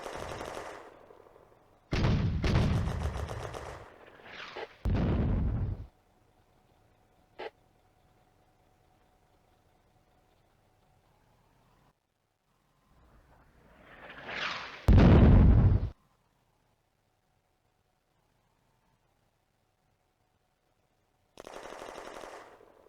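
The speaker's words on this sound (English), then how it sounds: "The Granatwerfer opens another counter-battery fire mission" Mortar counter-battery fire and gunfire from the World War II Eastern Front game Firefight come as loud bursts of rapid machine-gun fire and booming blasts, separated by long near-silent gaps, with a single sharp shot in between.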